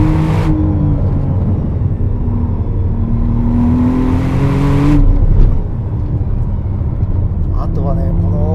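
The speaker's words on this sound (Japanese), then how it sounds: "上まで回した方がね、とても鋭い加速と素晴らしいエキゾーストの音が聞こえますね" A 2025 McLaren Artura on a winding road, its exhaust climbing steadily in pitch as the engine revs high under hard acceleration, loud and close, then easing off near the end.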